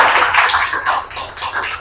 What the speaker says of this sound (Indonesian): Kita berikan semangat tepuk tangan untuk kelompok.